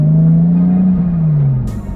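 A Porsche 911 GT3 Touring revs hard under acceleration, a loud, close, sustained engine howl whose pitch holds high and then eases slightly before a brief whoosh at the end.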